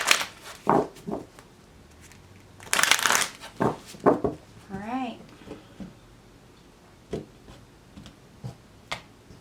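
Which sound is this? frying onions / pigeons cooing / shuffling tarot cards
shuffling tarot cards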